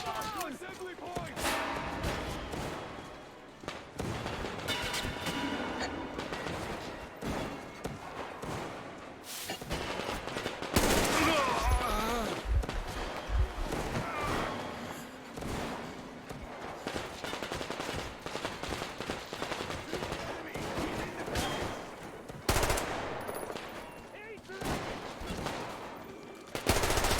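Gunfire in the shooter game Metro Exodus rattles in dense, repeated bursts of rapid shots throughout a firefight, loud and close, with voices shouting over the fighting.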